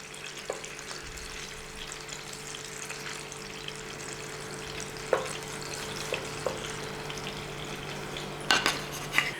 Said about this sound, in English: We're going to shallow fry And we're just going to turn them.